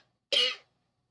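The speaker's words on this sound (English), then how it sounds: "If I don't cough myself to death, I swear, haven't coughed all week." A single sharp cough from an adult during a craft class, one brief loud burst standing alone in an otherwise quiet room.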